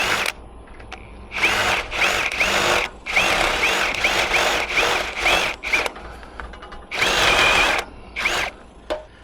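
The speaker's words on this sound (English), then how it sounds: "This drill. Now it's easy aluminum, I'm gonna go about 2 inches." A power drill whirs in repeated short bursts, starting and stopping about seven times as it bores through aluminum on an RV, close and loud.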